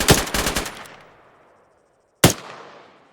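Automatic gunfire in a military video game: a rapid burst of several loud, close shots with a ringing decay, then silence and one more sharp shot trailing off.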